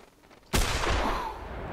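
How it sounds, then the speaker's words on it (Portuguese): A single loud shotgun blast in The Hunter Classic during a snow goose hunt, sharp and sudden, followed by a long decaying echo. "Consegui pegar os dois com um único disparo."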